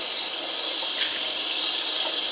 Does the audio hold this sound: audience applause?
no